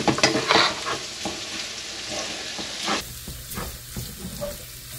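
Garlic sautéing in a frying pan for a patola and miswa soup, a busy sizzle with stirring clatter, loudest in the first few seconds, then settling into a steadier, quieter fry.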